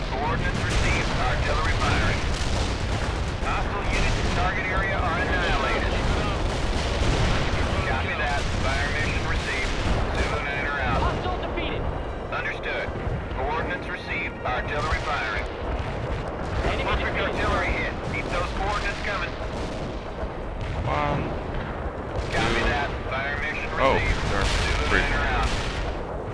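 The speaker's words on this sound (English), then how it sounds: "Artillery firing." Artillery barrages and heavy gunfire from the real-time strategy game World in Conflict, a dense, continuous roar of booming blasts and crackling shots that stays loud for the whole stretch, with voices speaking over it.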